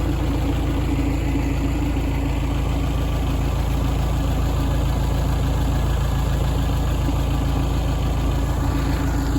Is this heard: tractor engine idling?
yes